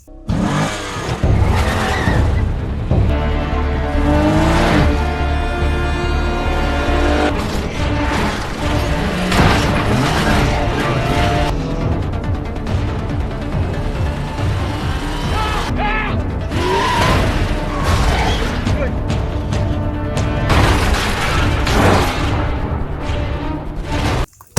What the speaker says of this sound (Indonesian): terjadi aksi kejar-kejaran yang menyebabkan mereka saling bertabrakan